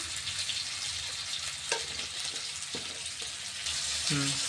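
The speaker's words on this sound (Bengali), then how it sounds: "আলুগুলো একটু হালকা ভেজে নিচ্ছি" Potatoes with salt and turmeric lightly frying in a pan, giving a continuous close sizzle with a few soft stirring knocks and a brief clink near the end.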